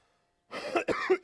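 A run of several hoarse coughs from a person with a lingering cough, close to the microphone and loud, with no talking over them.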